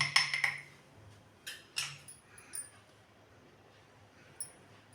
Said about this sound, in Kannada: ನೋಡಿ, ಇವಾಗ ಚಿಕ್ಕದೊಂದು ಪಾನ್ ಇಟ್ಕೊಳ್ಳೋಣ